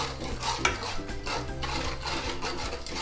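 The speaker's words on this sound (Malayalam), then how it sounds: "ഇങ്ങനെ വിസ്ക് ഉപയോഗിച്ച് മിക്സ് ചെയ്യുമ്പോഴത്തേക്ക് പെട്ടെന്ന് തന്നെ നന്നായിട്ട് മിക്സ് ആയി കിട്ടും" A whisk stirring sugar into a homemade chocolate ice cream mixture in a bowl, giving steady close scraping and swishing strokes with a regular back-and-forth rhythm and no talking.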